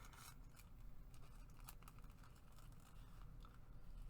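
Scissors trim paper for a junk journal, a quiet run of crisp snips and slicing cuts in uneven rhythm, close up with no talking.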